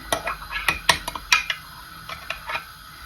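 A spoon scrapes sour cream off the walls of a pot during homemade cottage cheese making, with a run of close, sharp metallic clinks and scrapes at an uneven rhythm.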